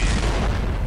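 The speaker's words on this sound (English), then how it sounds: "how big is the explosion" A grenade blast in the old Counter-Strike game rolls out as a loud, dense boom and fills the whole moment with heavy low rumble, with no voices over it.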